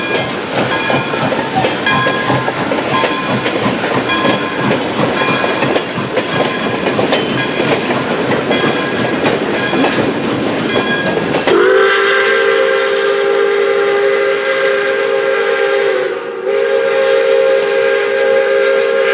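Steam locomotive Pere Marquette 1225 rumbles past a pedestrian railroad crossing in Owosso with clattering wheels, then its whistle blows a long, loud, sustained chord close by.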